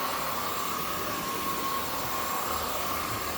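A Hoover vacuum cleaner runs continuously on carpet, a loud steady whine and broadband roar with no breaks and no talking.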